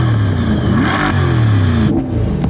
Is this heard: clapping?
no